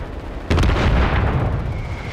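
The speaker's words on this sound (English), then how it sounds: "Mortar strike inbound." A mortar strike explodes in a video game firefight, one loud booming blast with a cracking onset that rolls into a long rumbling decay.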